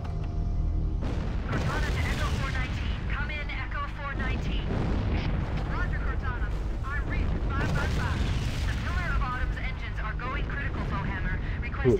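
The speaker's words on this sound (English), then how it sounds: "Everything's exploding." Repeated booming explosions in the video game Cursed Halo, rumbling continuously for several seconds beneath steady talking.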